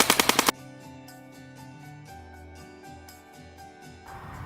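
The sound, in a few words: airsoft gun firing a short burst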